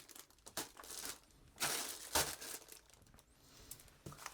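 A plastic bag of radio parts crinkles and rustles in irregular bursts while being handled for weighing, close and fairly quiet with no talking.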